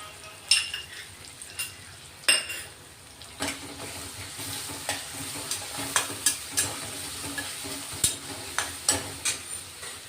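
Green chili, ginger-garlic paste and curry leaves fry with onions and tomatoes for chana kheema masala, with quiet sizzling under a run of sharp spatula scrapes and knocks against the pan.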